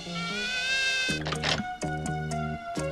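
A cartoon mosquito buzzes in short whining tones, broken into several bursts over a few seconds with a thin high drone running underneath.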